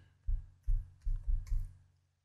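Computer keyboard typing, a few keys struck in quick succession while naming a folder, heard as five soft, close taps spaced about a third of a second apart in a quiet room.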